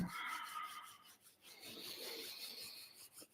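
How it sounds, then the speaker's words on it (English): Palms rubbed briskly together at the start of a Kundalini yoga practice make a quiet, close, dry swishing rasp in continuous strokes with brief pauses. "Start to rub the palms together."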